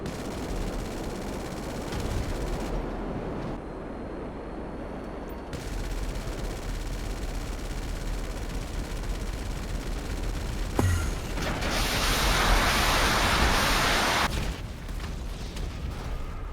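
Heavy gunfire and rocket blasts in the video game GTA Online: continuous loud automatic fire crackles throughout, punctuated by a sharp impact and a louder burst of explosive noise partway through.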